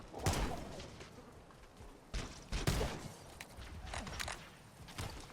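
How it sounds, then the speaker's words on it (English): Covenant plasma pistol firing in Halo: Combat Evolved, heard as several sharp, separate zaps and bursts at uneven intervals, moderately close, over low background clatter. "Plasma pistol sounds the same."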